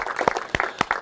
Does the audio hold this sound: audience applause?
yes